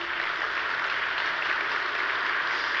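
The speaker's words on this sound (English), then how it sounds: "Round of applause" Steady audience applause fills a keynote hall at Atlassian Summit 2013, a dense, even wash of clapping from a large crowd that holds at a constant level throughout, with no voices over it.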